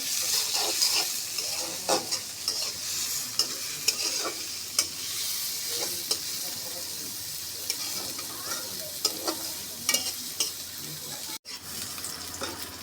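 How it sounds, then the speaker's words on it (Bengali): Sliced onions frying in oil until brown for a potato, pointed gourd and pangas fish curry, a continuous soft sizzle with intermittent stirring scrapes and clinks, close by, with no talking. "পেঁয়াজগুলি একটু বাদামি করে আমি ভেজে নেব"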